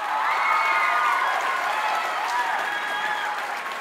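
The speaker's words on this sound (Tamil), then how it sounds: "எல்லாம் ஒரு பெரிய கைத்தட்டல் கொடுத்துருங்க." A large television studio audience applauds steadily at a grand finale show, dense clapping with some crowd noise filling the whole moment at an even, fairly loud level, with a voice briefly audible over it.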